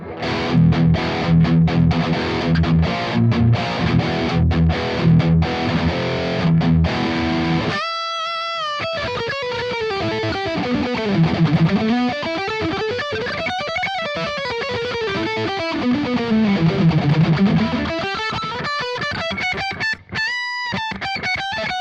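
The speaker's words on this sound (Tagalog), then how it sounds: "Yung isang sample ng high gain ni ToneX." High-gain distorted electric guitar tone from a ToneX amp-modeling pedal, starting with dense chugging riffs, then a brief break before sustained lead lines bending up and down, loud and alone without voices.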